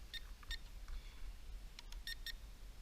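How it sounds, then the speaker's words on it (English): Short electronic beeps from the rate button on a Syma X5HC quadcopter drone's handheld controller, several faint high chirps in small groups over a low background hum, with no talking. "One press, you'll hear 2 beeps."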